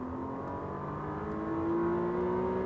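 A McLaren 720S pulls hard at full throttle on a racing circuit, its engine note rising steadily in pitch as it accelerates, heard from inside the car, fairly quiet and continuous.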